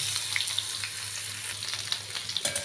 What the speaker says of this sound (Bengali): পেঁয়াজটা কিন্তু একটু সময় নিয়েই ভাজতে হবে কেননা পেঁয়াজ ভাজতে একটু সময় লাগে